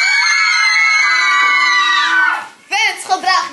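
Fans scream together in a long, shrill, sustained shriek that breaks off, then a second burst of excited high yelling follows.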